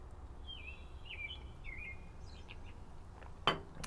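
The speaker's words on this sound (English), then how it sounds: "birds calling." Faint birds call outdoors in a few short, high warbling chirps over a low ambient rumble, followed by a brief sharp clink.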